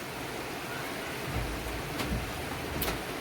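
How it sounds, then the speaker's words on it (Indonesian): Heavy rain pours steadily with a dense hiss, and a few slightly louder gusts or surges come partway through. "hujan lumayan cukup deras"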